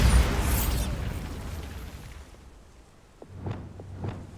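Spell explosions from Bombarda and Confringo in the Hogwarts Legacy video game: a loud blast at the start that fades into a rumbling decay, then two sharper bursts close together near the end.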